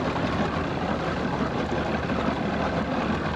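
Boat engine running with Seafoam added to the fuel to clean its injectors, a steady broadband rumble and wash heard close and continuous with no talk.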